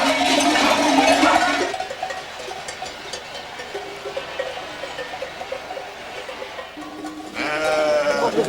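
A flock of sheep on transhumance near high mountains in France bleats repeatedly amid a steady jangle of many cowbells, with a loud close bleat at the start and another near the end.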